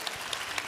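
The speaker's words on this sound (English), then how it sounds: "let's give a big rousing round of applause to AHF and Black" An audience claps for a panel at a community event in Los Angeles, a dense, steady wash of applause from a crowd.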